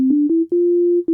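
A pure synthesizer sine wave holds a low steady pitch, played as a few short notes with small clicks between them and one longer held note, clean and loud with nothing else present.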